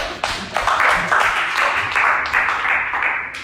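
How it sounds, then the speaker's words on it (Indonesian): A short burst of group clapping from a classroom full of people, brisk and fairly close, with a few voices mixed in. "Tepuk tangan dulu."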